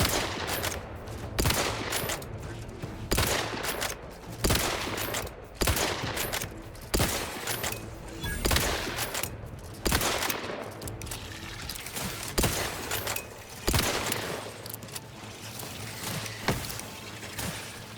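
Bursts of gunfire in the video game Outer Worlds 2, sharp shots in rapid volleys repeating across the whole stretch, loud and close with brief pauses between salvos.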